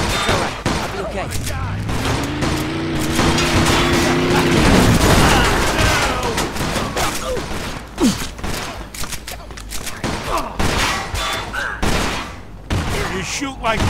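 Gunfire in the Mafia 2 video game: bursts of shots and rapid fusillades crack through a loud, busy game mix, with a siren-like tone early on and voices talking throughout.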